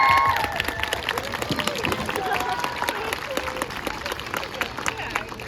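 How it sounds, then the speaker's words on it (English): Audience at a children's project showcase giving a round of applause, a dense wash of many hands clapping with some cheering, steady and fairly loud across the room, tapering slightly toward the end. "I want to start by just giving a huge round of applause to your children"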